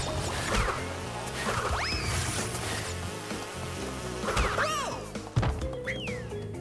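Bees buzz in the Crash Bandicoot platformer, with whining passes that rise and fall over busy game music and effects, plus a sharp hit near the end.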